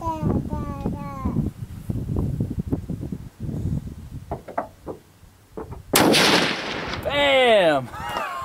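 Rifle shots at clay targets, from a Daniel Defense DDM4V11 or a Savage rifle: several sharp cracks ring out amid a man's speech, followed by a loud blast near the end and a bright whining tail.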